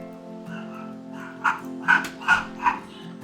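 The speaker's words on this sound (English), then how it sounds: "you may have heard my mother's dog in the background" A household pet dog barks in the background, four short yaps coming in quick succession at moderate distance over a quiet, humming room.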